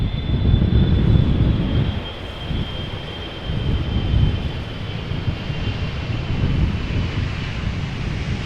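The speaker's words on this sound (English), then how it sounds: "777-300ER arriving from Cape Town, South Africa." A KLM Boeing 777-300ER arriving at Amsterdam Schiphol on a windy day gives a steady broad engine roar, moderately loud and distant, with gusts of wind buffeting the microphone throughout.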